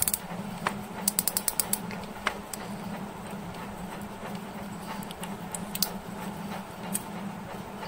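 Drag knob of a Shimano Antares DC MD baitcasting reel being tightened fully, a series of small clicks and creaks over a low steady hum, quiet and close.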